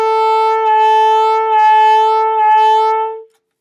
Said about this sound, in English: I'm going to play 4 quarter notes without my tongue.